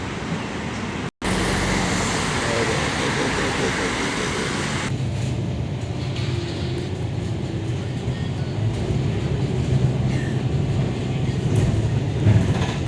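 The number 41 bus arriving at a Singapore bus stop, a steady heavy engine and road rumble that shifts after a brief cutoff near the start, with voices talking over the traffic noise.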